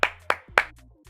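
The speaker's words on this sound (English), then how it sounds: "go ahead and clap for yourself" Three sharp hand claps from one person, close and evenly spaced, followed by quiet.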